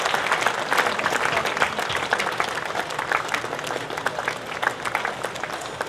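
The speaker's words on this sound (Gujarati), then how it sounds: "આપણે સૌ તાળીઓથી વધાવી લઈશું." Catholic congregation at a mass in a Baroda diocese pilgrimage applauding the priests at the altar, sustained loud clapping from many hands, steady and crowded throughout with no talking.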